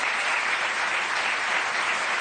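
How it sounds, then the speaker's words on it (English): Studio audience applauding on a French Sunday television variety show, a steady dense wash of clapping that holds evenly for about two seconds with no voices. "On peut l'applaudir."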